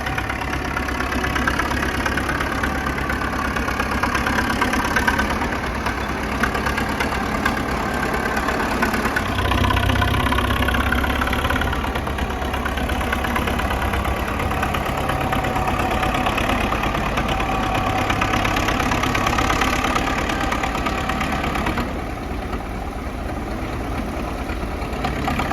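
A 1941 Caterpillar D7 bulldozer engine idles steadily and loudly up close, a continuous low rumble with slight swells in level throughout and no talk.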